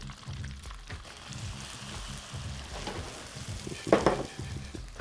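Mushrooms frying in a pan: a steady soft sizzle with clattering scrapes of stirring, rising into a brief louder burst near the end, close and alone without talk.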